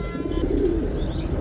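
Pigeons cooing at night in a loft where birds sit brooding their young, a low steady murmur of coos filling the short stretch without any talk.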